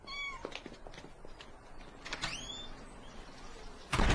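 A domestic cat gives a few short, faint meows over a low, steady background, with creaking and a sudden rustling noise near the end.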